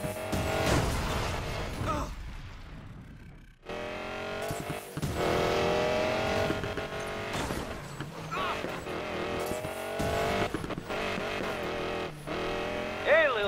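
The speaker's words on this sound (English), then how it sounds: "Engines are revving." Car engines in the racing video game Need for Speed Payback rev and roar steadily across the clip, loud and sustained with pitch sweeps, briefly dropping out around four seconds, with game music or effects layered in.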